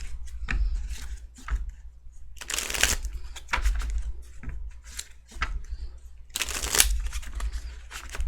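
Repeated riffling bursts of playing cards being shuffled, several quick crisp shuffles separated by brief pauses and soft handling clicks, close by.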